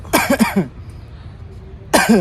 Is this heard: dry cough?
yes